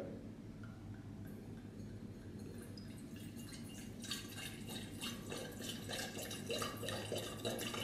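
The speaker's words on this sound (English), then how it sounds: "it's actually not a bad idea to pour it, in a sort of a fairly rough way" Young wine poured roughly into a decanter with a punt, a steady close splashing and gurgling of liquid that grows busier and more bubbly as the pour continues, with no talk.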